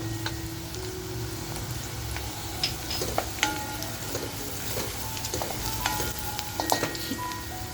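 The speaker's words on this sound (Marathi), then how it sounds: "जी आपण लसूण ठेचून घेतली आहे बघा, ती लसूण टाकतीये." Crushed garlic frying in oil for mutton masala, a steady close sizzle with occasional small pops and light utensil taps, under a low background hum.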